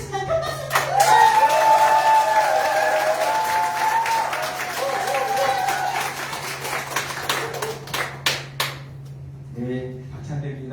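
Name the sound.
applause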